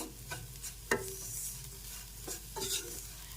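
Sugar being stirred into gujiya filling in a pan, a few soft scraping sweeps and a light clack, quiet and close with no voices.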